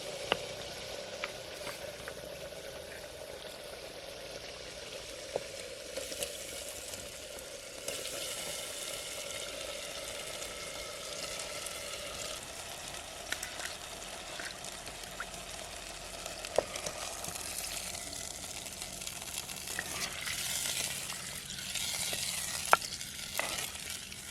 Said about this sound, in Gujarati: બટેટા નાખી દઈએ થોડું પાણી નાખી દઈએ પછી પાકવા દઈએ